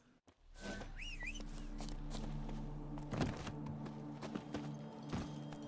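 Roach, the horse from The Witcher 3, trots in with steady hoofbeats under a continuous game backdrop, and a sharp rising whistle calls her early on.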